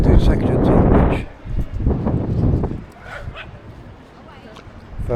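Dogs bark and yip on a beach on a freezing morning during a seaside walk, several short bursts amid wind and people talking nearby, fairly close and moderately loud.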